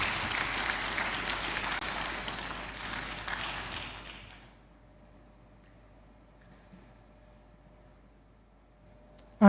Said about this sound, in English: I would ask for another round of applause for the Vice-Chancellor.